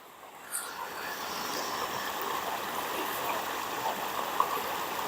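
Flash floodwater rushes steadily down a ditch, a broad continuous roar like a small waterfall heard up close, with a faint voice briefly at the start.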